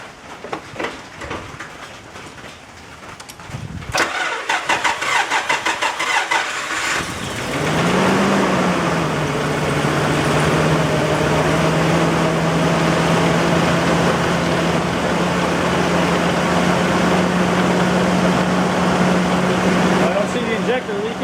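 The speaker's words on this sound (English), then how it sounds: "So let me try starting it, see what it does." A 1991 Nissan Pathfinder with a bad engine miss cranks over and catches about a third of the way in, then settles into a loud, steady close-up idle that runs to the end.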